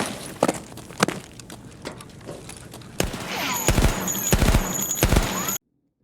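Rapid automatic gunfire from a first-person shooter game, bursts of sharp shots poured at the boss Tagilla, the firing growing louder and denser toward the end before cutting off abruptly.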